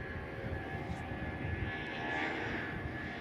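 An Airbus A320 airliner takes off from runway 03 at Perth, its engines a steady, broad roar heard from a distance that swells slightly toward the end, with no voices.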